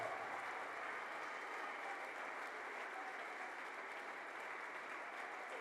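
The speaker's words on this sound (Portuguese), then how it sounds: "Exalta o Jeová Shalom com uma salva de palmas." Steady, dense applause from a church congregation, a continuous even wash of many hands clapping at moderate distance with no voices over it.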